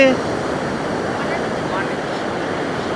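Sea waves wash steadily near the Antarvedi lighthouse, where the sea has advanced over the shore, a continuous loud roar of surf mixed with wind buffeting the microphone.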